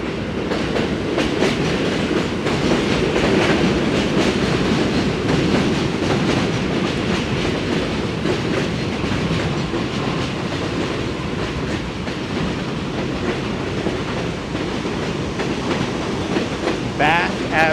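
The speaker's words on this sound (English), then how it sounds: "By the way, that's a D train. That's above us." A New York City subway D train passes on elevated tracks in southern Brooklyn, giving a loud, sustained rumble with rhythmic clickety-clack of wheels heard from street level below, steady throughout with a faint squeal near the end.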